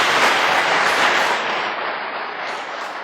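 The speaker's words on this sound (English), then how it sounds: "A round of applause for Kingsley, please." Quiz show audience applauding a contestant, a dense, steady wash of many hands clapping together that stays loud and close for the whole stretch and eases off only slightly near the end.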